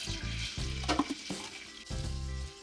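Butter and flour cooking together into a roux for béchamel sauce for lasagna, a loud close sizzle with bursts of stirring and scraping across the pan, no voices.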